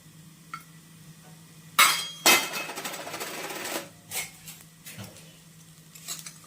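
Grated fresh coconut and jaggery dropped into a pan while making filling for Konkan-style steamed modak: a couple of sharp metallic clinks, then rustling, scraping pours and light taps close by, over a low hum.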